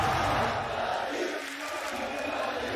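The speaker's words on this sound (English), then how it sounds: "So the crowd getting behind Fnatic right now" An esports arena crowd at a VALORANT Champions match in Istanbul roars and cheers for Fnatic in a sustained, dense wash of voices that stays loud throughout.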